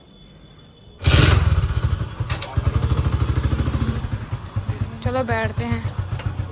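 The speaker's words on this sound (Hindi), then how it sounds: "बाइक स्टार्ट कर रहे हैं।" A motorcycle engine fires up after a quiet start, then settles into a loud, rapid, chugging idle with rhythmic pulses; a person speaks briefly near the end.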